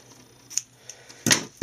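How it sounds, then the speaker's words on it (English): Scissors snipping a piece of ribbon for a handmade birthday card: a few light clicks, then one close, crisp snip near the end, all in a quiet room. "So let's go ahead and get the ribbon on. And let me snip a piece off here."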